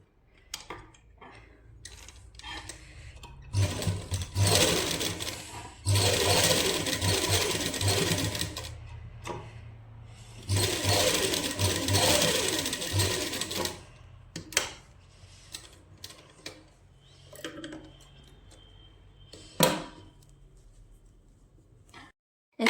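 Sewing machine stitching a double seam on a homemade winter cap, two long runs of steady rapid mechanical whirring separated by pauses, close and loud, with scattered clicks and handling noises between bursts and no talking.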